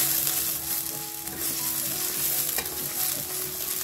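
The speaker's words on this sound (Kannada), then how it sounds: "ಇವಾಗ ಸಾಸಿವೆ ಜೀರಿಗೆ ಸಿಡಿಬೇಕಾದ್ರೆ ಇದ್ರೊಳಗಡೆ ಹಸಿಮೆಣಸಿನಕಾಯಿನ ಹಾಕೋಣ. ಈರುಳ್ಳಿ ಸಣ್ಣದಾಗಿ ಹೆಚ್ಚಿರೋದು ಈರುಳ್ಳಿನ ಹಾಕೊಳ್ಳಿ" A constant hiss of finely chopped onion and green chilli frying in a mustard and cumin tempering, with soft stirring scrapes and a faint clink or two, no talking.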